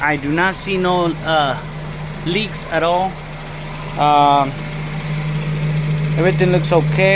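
A Honda Civic engine runs at a steady idle, a constant low hum close by, while someone talks over it at intervals.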